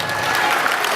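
Audience applause at an evening party, a brief, dense burst of clapping that fills the second evenly, moderately loud with a faint tonal hum beneath it.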